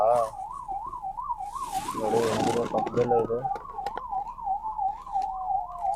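An ambulance siren wails, rising and falling repeatedly nearby amid traffic noise, while someone speaks briefly over it.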